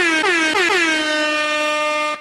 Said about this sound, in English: Give him the air horn for coming in on that.